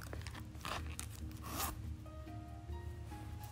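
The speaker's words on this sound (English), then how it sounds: "Zipper still works so perfectly, as you'd expect." Quiet, close zipping of the metal zipper on a Louis Vuitton Monogram Pochette Felicie, a few short back-and-forth pulls with a smooth, slightly gritty rasp and no voices.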